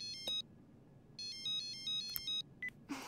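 A telephone rings in a home scene from the anime Lucky Star, sounding as repeated short bursts of electronic ringtone with small gaps, clear and fairly close, with no talking over it.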